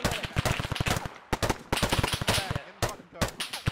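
Rapid bursts of automatic gunfire in a team firefight ambush, loud close volleys of repeated shots broken by brief gaps, with the shooting continuing in clusters throughout.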